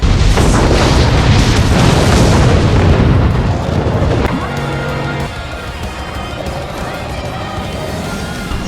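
Missile explosions in the space-combat video game Starfighters: Raven Station, a loud booming blast roar for several seconds that fades into a lower rumbling engine drone.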